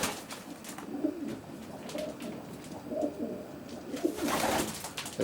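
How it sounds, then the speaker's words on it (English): Several racing pigeons coo softly inside a closed-in loft, their low throaty calls overlapping in irregular bursts. "this is the best pigeon in my loft"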